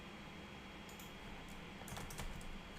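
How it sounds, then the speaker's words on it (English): Typing on a computer keyboard: a quiet run of irregular key clicks at close range, with no talk over it. "I just type it here."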